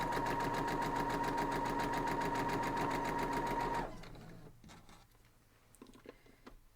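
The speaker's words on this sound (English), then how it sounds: "Then we're going to sew up our half square triangles." A sewing machine stitches quilt half-square triangles in a fast, steady mechanical whir for about four seconds, then stops, leaving faint handling rustles and light clicks.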